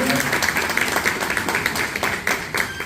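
Audience applause at a university language institute's 60th anniversary ceremony, dense sustained clapping throughout with voices underneath.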